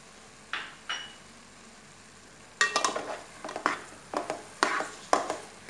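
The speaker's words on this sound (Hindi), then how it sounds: "अच्छे से मिक्स करेंगे।" Coconut puri filling with cardamom powder stirred in a pan, quiet at first, then a series of sharp scraping strokes of a spoon against the pan in an irregular rhythm.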